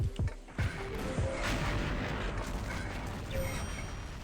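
Nearby gunfire in the XSHOT shooter game: a few sharp, punchy shots open the moment, followed by a dense mechanical rumble and clatter.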